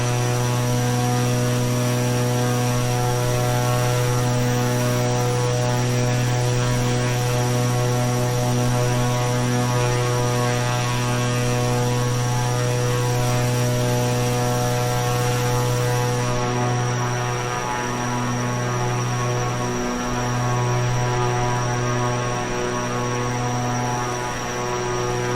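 A Velocity XL propeller aircraft engine in Microsoft Flight Simulator drones steadily for the whole stretch, a loud, even, hum-laden tone without any speech over it.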